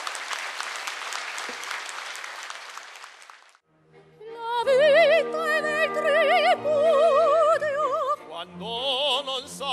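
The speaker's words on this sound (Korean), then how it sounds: "문국진 재단 이사장님께 감사와 격려의 박수를 보내주시기 바랍니다" Hearty audience applause at a 2008 inauguration ceremony, thanking the foundation chairman. It rings out for several seconds and then fades, and a vibrato-rich singing voice with accompaniment takes over.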